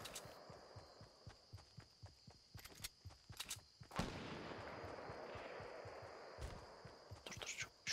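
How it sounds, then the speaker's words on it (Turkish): Distant gunfire in Fortnite Battle Royale, faint scattered pops and bursts behind footsteps and game noise, with a louder stretch in the middle. "Karşıda silah sesleri geliyor"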